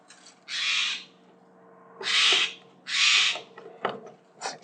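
Near a backyard bird feeder, a bird gives three harsh, drawn-out raspy calls, loud and close, followed by a few short clicks and knocks.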